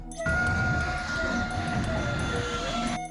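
A train rumbles loudly past inside a tunnel, echoing, with a steady roar and a high whining tone throughout.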